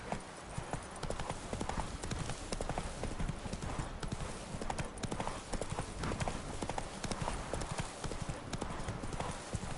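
Loud, rapid horse hoofbeats from The Witcher video game clip-clop in a steady galloping rhythm for the whole stretch, close and continuous.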